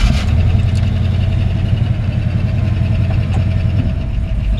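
A 1970 Chevrolet C-10 with a mildly built 454 big-block V8, roller rockers and a disconnected choke runs close by with a loud, steady, throbbing idle and a low rhythmic lope and rumble, with nothing else over it.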